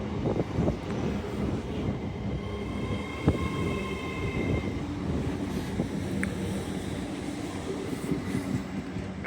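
LNER Class 803 electric unit 803-003 running from London King's Cross to Edinburgh Waverley on the East Coast Main Line at York station: a steady, loud rumble of the passing train, with faint squeals and hums over it and no talk.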